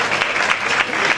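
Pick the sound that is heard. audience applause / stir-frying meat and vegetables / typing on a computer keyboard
audience applause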